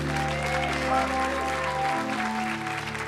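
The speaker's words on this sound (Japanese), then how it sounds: "もう一度ミュージシャンに大きな拍手をお願いします。" Sustained clapping from a jazz club audience at a 1980 Christmas session in Roppongi, Tokyo, fills the whole stretch, steady and fairly loud, with a low musical hum lingering beneath.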